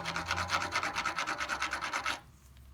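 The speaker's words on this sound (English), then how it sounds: "Just a small file. Lay it down on the side." A small file rasping down the top of a 10 mm fork bolt on a Suzuki RM125 dirt bike, steady rhythmic back-and-forth strokes close by that stop abruptly near the end.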